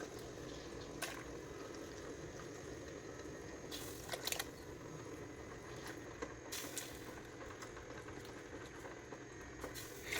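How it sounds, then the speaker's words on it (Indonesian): Water boiling in a pot before duck meat goes in for soup gives a steady bubbling, seething hiss with a few sharper clinks and bumps, continuous and close. "Airnya juga sudah mendidih. Jadi langsung kita masukin aja."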